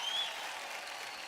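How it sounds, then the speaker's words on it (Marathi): Audience applause at a Marathi televised dance competition, a dense, steady burst of clapping from a studio crowd that holds at an even level throughout without talk. "जोरदार टाळ्या होऊन जाऊ द्या"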